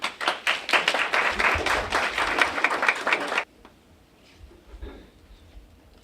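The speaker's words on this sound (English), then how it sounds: "A round of applause, please." Brief burst of clapping from a gathered audience at a Head Start program agreement signing, fairly close and lively for about three and a half seconds before cutting off to quiet room tone.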